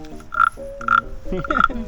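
A scraped frog-call lure at a Karen long-neck hill-tribe village in Pang Faen imitates frog croaks, giving rasping, close croak-like calls in several bursts with a ringing upper tone.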